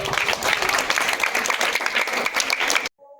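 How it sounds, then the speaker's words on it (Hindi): A crowd at a gathering in Sitamarhi, Bihar claps loudly in a dense burst that lasts nearly three seconds and then stops abruptly. "चलिए एक बार अपने लिए जोरदार ताली बजाइए तो सभी लोग।"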